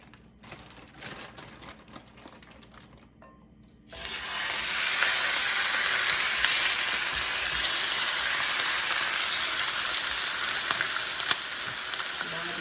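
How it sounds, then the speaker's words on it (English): Chuck beef hits a hot pan and browns with a loud, dense, continuous sizzle after a few seconds of quieter handling noises, steady and close for the rest of the time. "We're gonna start first by browning the beef."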